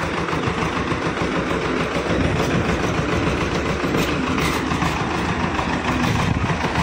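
Tractor engine in a village during rice paddy planting, rumbling loudly and continuously at close range with a steady, unbroken drone throughout.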